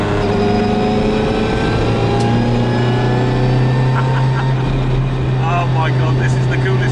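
A Paddy Hopkirk Mini Cooper S rally car drives along with a steady engine drone heard from inside the cabin, and people talk over the running engine.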